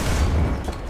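A tank cannon booms in the War Thunder video game, a single loud, deep low rumble filling the brief moment with no voices.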